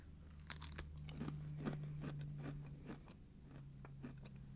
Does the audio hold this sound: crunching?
yes